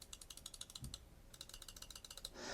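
A rapid series of small, crisp clicks from Lamzu Thorn and Lamzu Atlantis 4K mouse buttons, close and fairly quiet, repeating in two bursts with a short pause between.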